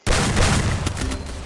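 Pistol fire in a mobile battle-royale shooter, a loud, dense crackle of shots hitting abruptly and rolling on for over a second with no talk over it.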